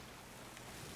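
Ocean waves wash against a ship at sea in the Sea of Thieves video game, a dense, steady broadband rush of water and wind with no break.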